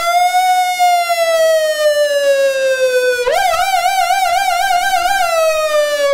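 A loud siren holds a long, slowly falling tone, then switches abruptly to a rapid warbling wail, steady and close throughout.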